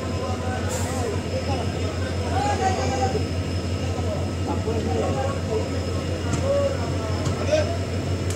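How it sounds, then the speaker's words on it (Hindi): A train departs Dekargaon station on the Tezpur–Guwahati route, a steady close rolling rumble with rail clatter throughout and muffled voices in the background. "ये ट्रेन अभी केशपुर डेकरगांव से निकल चुका है।"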